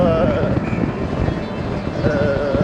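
Steady rushing wind noise buffeting the microphone while riding a motorcycle, a constant dense roar with faint tonal hum beneath.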